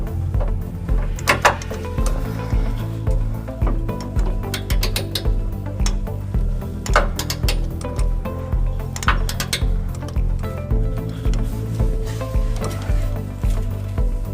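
A socket wrench with a 5-inch extension and 19 mm socket torques trailer hitch bolts to 105 foot-pounds on a 2008 Toyota Tacoma frame, giving scattered metallic clinks and clicks over a steady low hum.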